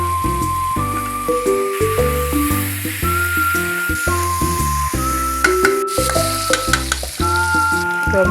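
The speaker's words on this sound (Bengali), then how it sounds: "এবার টমেটোগুলো দিয়ে আবার টমেটোগুলো একটু ভেজে নিবি ভালো করে।" Tomatoes fry with onions in a pan for a rohu fish curry, a constant close sizzle with occasional stirring, set beneath loud melodic background music.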